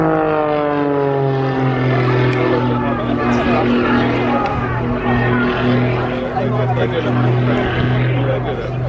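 Aerobatic propeller airplane at the Eastbourne Airshow, a loud, steady engine drone with a sliding pitch as it climbs, while an announcer talks over it throughout.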